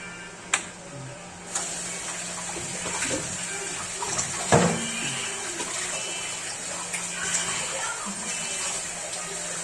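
Dishes are washed under a running tap, with a steady hiss of flowing water broken by occasional clinks and knocks of crockery close by.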